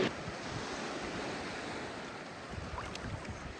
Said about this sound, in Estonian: Laine on mõnus väike selline.